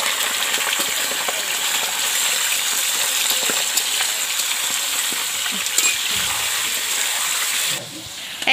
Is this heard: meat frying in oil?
yes